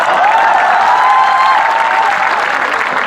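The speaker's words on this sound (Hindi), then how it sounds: "आप सबसे निवेदन करता हूँ मेरे स्वागत में दोबारा जोरदार तालियां बजाएं।" A steady wash of dense applause from the audience at a Hindi comedy poetry gathering (hasya kavi sammelan) as they welcome a poet. It stays loud and even throughout, with no speech over it.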